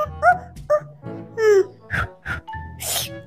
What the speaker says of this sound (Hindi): कौन भौंक रहा है?